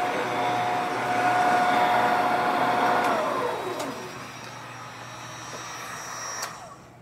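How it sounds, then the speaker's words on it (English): A ShopSmith woodworking machine powered from a 12.8-volt lithium battery whirs up to a steady motor hum with a high whine, then slowly winds down, with a few sharp clicks near the end. "So let's turn on the ShopSmith."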